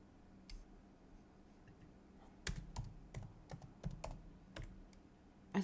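Computer keyboard keys typed in an irregular burst of sharp clicks, quiet and close, starting after a pause and continuing in uneven clusters with no talking.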